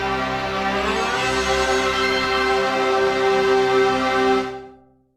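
Japanese Sega Saturn console startup intro plays as a rich sustained synth chord swell, loud and steady before fading out abruptly near the end.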